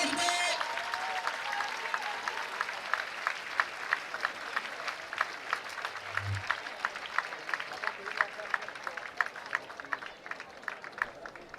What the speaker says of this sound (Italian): vorrei sentire l'applauso da parte di tutti i presenti